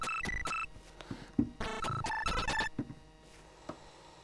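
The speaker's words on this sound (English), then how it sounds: "he had this unusual sort of crashing metal sound," Commodore 64 synth playing a crashing metallic sound from the game Commando: sharp clanging hits and short bright tonal blips in an irregular burst, fairly faint, with no voices.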